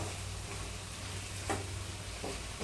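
A carrot and milk mixture simmers in a frying pan while being stirred, a soft continuous sizzle with a low hum beneath and occasional scraping strokes of the spoon across the pan.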